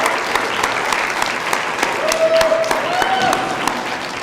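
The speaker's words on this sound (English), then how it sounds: "let's all give them a round of applause" Audience applause at a graduation ceremony, a steady wash of many hands clapping that fills the whole stretch at moderate loudness, with a faint whistle-like tone rising partway through.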